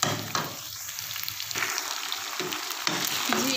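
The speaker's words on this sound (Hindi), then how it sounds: "इसको हम 5-7 मिनट जो है वो फ्राई कर लेते हैं अच्छी तरह से" Chicken pieces frying in a pan for a chicken and capsicum dish, a steady close crackling sizzle with a few clanks and scrapes of stirring throughout, no voices.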